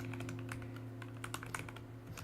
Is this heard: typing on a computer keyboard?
yes